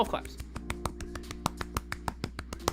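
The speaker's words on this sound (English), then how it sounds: "We applaud you. Golf claps." Light, polite golf claps: a steady run of small, crisp hand claps at an even pace over a low steady hum.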